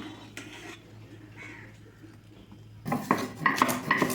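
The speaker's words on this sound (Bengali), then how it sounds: "তো আমি এইভাবে বেটে নিচ্ছি বেটে একদম মিহি করে নেবো" Raw amla (Indian gooseberry) is mashed fine for murabba, starting with soft, sparse scraping that gives way to louder, rapid clattering knocks of a utensil against a dish.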